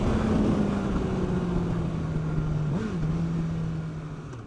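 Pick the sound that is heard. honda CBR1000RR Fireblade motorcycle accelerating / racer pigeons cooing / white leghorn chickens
honda CBR1000RR Fireblade motorcycle accelerating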